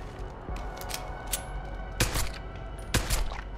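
Gunshots in the game Deus Ex: Human Revolution, with two heavier, louder shots a second apart standing out over lighter clicks and ambient game noise.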